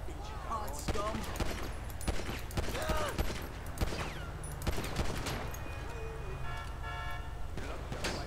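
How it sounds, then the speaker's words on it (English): Rapid bursts of gunfire in GTA V with the LSPDFR police mod crackle through a busy game soundscape at moderate volume, mixed with scattered game effects and a voice speaking. "I'm getting shot at. Returning fire."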